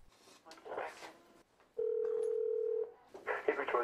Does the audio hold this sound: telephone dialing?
yes